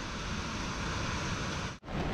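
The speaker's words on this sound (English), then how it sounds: "Look how sexy those waves are." Stormy, windy beach with ocean waves, a loud continuous wash of surf and wind noise, broken briefly by one short dropout near the end, no talking.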